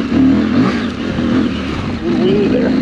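A KTM 790 Adventure motorcycle on a rough Colorado backcountry trail, its engine revving hard in a wheelie: a loud, close, wavering engine roar that rises and dips. A voice speaks over it.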